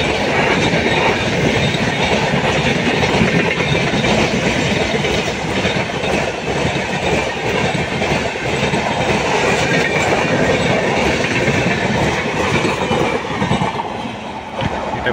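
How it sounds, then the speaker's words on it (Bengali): The Bengaluru–Guwahati superfast express thunders past at close range, a loud, continuous roar of wheels with rhythmic clickety-clack over rail joints and faint squeals throughout. "সুপারফাস্ট এক্সপ্রেস যাচ্ছে।"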